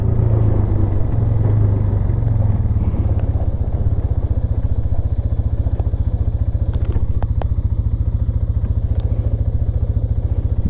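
A 2001 Yamaha Bear Tracker 250 ATV with a freshly cleaned carburetor rumbles steadily along a stretch of road, its single-cylinder engine throbbing close and loud throughout, with light clatter on top.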